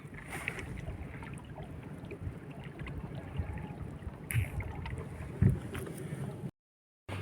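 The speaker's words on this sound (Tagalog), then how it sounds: "Maingay pa yung dagat mga lods." Rough sea washes around a boat anchored offshore, giving a constant low rumble with wind buffeting the microphone and a few louder thumps and splashes.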